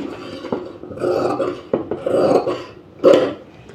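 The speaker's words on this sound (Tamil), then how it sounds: "லெஃப்ட் சைடு மட்டும் நம்ம ஒரு 1/2 இன்ச் கட் பண்ணிக்கலாம்." Scissors slice through blouse fabric during tailoring, a close series of rasping, crunching cuts in several uneven bursts, loud and with no talking.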